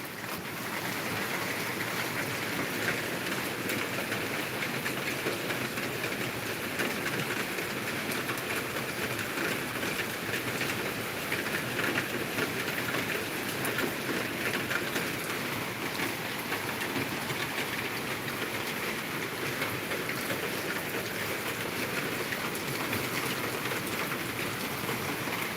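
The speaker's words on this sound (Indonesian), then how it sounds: "masih hujan lebat" Heavy rain pours steadily for the whole stretch, a dense, unbroken hiss of drops on surfaces at an even, fairly loud level with no voices.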